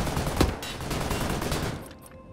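An automated turret in Wolfenstein: The New Order fires a dense, rattling burst of gunfire that fills most of the moment, with one sharper report early on before it tapers off.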